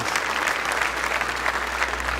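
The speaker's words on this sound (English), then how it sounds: "if you'd have a round of applause as the winners and the runners-up take to the front" Steady applause from a crowd at the FIA awards ceremony as winners and runners-up come forward, a dense continuous clatter of many hands clapping throughout, fairly close and loud.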